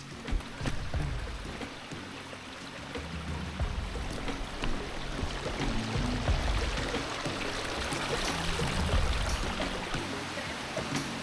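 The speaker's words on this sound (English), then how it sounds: "there is just a stream, just a little creek" A small creek flows on a hiking trail on Rarotonga in the Cook Islands, a continuous close babbling and gurgling rush of water.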